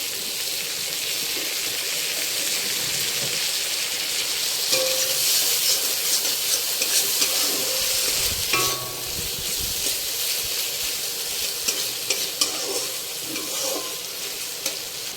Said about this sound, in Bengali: বেশ কিছুক্ষণ নাড়ার পর গ্যাসের স্পিডটা একটু কম করে দেওয়া হয়েছে এবার এতে দেওয়া হচ্ছে আদা রসুনের পেস্ট